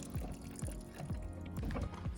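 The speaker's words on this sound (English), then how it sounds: "that will release all the grey water from your tank" Grey water drains from a campervan tank in a gurgling, glugging trickle, with repeated low bubbling pulses at a steady rhythm, fairly faint and close.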